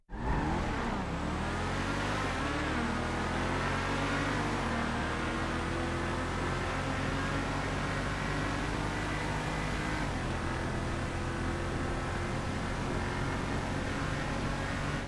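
An Itali GTO Stinger TT and a Paragon S race in GTA Online, their engines revving and climbing through gear shifts in a loud, sustained drone with rising and falling pitch and no talk throughout.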